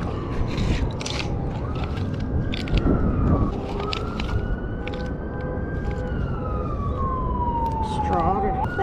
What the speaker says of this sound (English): There's the siren, fire chief.